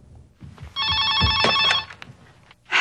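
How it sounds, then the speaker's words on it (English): A telephone rings loudly in a horror film scene from Scream, one sustained electronic ring-burst over faint room sounds and movement, heard without talk. "Here is Drew Barrymore playing Casey when she gets the first phone call from the killer."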